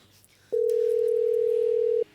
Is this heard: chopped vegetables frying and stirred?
no